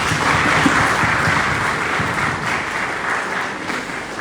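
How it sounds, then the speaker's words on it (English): A room full of attendees at a national stakeholders dialogue in Liberia gives a continuous round of applause, an even, close wash of clapping with no talk. "A round of applause for that"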